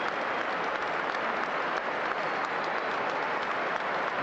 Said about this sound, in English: He applauds the supporters as he heads off, and Elliot Anderson,